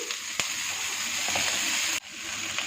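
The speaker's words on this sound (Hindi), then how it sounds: "1 मिनट तक मीडियम हीट पे इसे भून लेंगे" Chopped vegetables with garlic ginger paste fry in a pan over medium heat, a close continuous sizzle with occasional clinks and a brief stirring knock.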